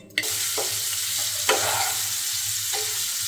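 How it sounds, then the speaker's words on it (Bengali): Paneer fries in hot oil in a pan, giving a dense, steady sizzle with a few sharp stirring scrapes, close and constant, with no voices. "এবার পনিরগুলোকে ভেজে ফেলি"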